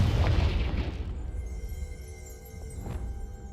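A deep booming blast from the Confringo explosion spell in a wizarding video game, loud at the start and rumbling away over a few seconds into a quieter tail with a faint chime.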